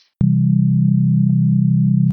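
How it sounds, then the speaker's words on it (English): Pure sine tones held together as a steady chord an octave higher, with a subtle pulsing beat running through it; the sustained tone starts and ends abruptly. "so let's take it up an octave"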